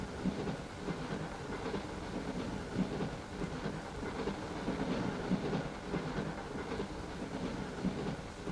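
A train running along its track on the Horror Express, a continuous rumbling drone with a steady rhythmic clickety-clack of wheels over rail joints throughout, no speech.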